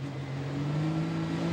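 Diesel super stock pulling tractor idling at the starting line of a pulling event, a steady low rumbling engine drone with a constant hum, heard from a distance and without much change.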